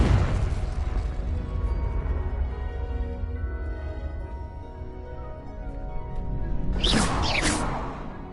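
A Confringo blasting spell goes off in a Hogwarts wizarding video game: a sharp, loud burst near the end follows a steady rumbling game backdrop, with no voices.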